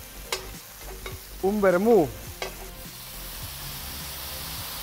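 Three cloves of chopped garlic and chicken frying in a disco over a strong fire, a continuous sizzle with clattering stirring scrapes, and a short spoken phrase partway through.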